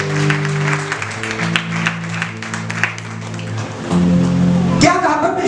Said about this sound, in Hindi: जोर से परमेश्वर के लिए ताली बजाएं।